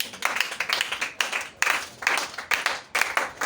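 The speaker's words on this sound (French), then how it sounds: "Acclamons le Seigneur." A church congregation at a Sunday service clapping in rhythm, steady bursts of hand claps repeating in regular beats, close and lively with no speech.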